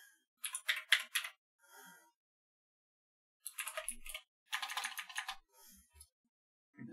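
Someone types in quick bursts on a computer keyboard. Close, crisp clicks come in clusters separated by silent pauses, with no talking.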